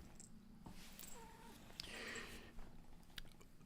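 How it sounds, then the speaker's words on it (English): A cat sitting in a lap makes soft, faint purring and small vocal sounds with scattered rustling in a quiet indoor room. "You guys, I have a kitty in my lap, see?"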